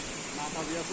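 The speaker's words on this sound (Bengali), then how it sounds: "এটা ঝর্ণার আওয়াজ।" A steady, broadband rush of a waterfall in the hills, constant and fairly loud, with a faint voice murmuring underneath.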